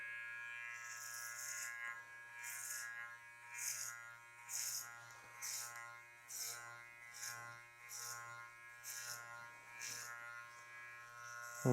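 Electric hair clippers cut a skin fade at a salon, a steady low buzz with a repeating rhythm of brighter rasping passes as the blades sweep through hair, close and fairly quiet with no talking.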